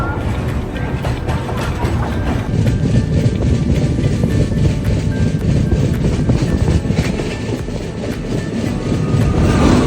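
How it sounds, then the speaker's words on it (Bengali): A passenger train heads toward Vizianagaram from Khurda Road, heard from inside the carriage as a loud continuous low rumble with faint rhythmic clatter throughout. "ট্রেন ঠিক সময়ে চলছে।"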